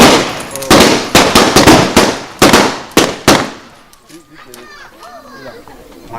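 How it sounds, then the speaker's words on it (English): Gunfire in a live Western show, a rapid series of about eight loud sharp shots in quick succession, then children's voices and crowd chatter take over as the shooting stops. "gunfire echoed through town, sounding like a pair of blazing cannon guns"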